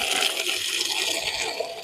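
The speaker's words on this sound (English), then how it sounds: "I measure how long it takes for 2 litres of water to come out of the hose" Water from a garden hose pours into a 2-litre bottle, giving a steady hiss and gurgle of liquid filling, close and unbroken, with no one speaking.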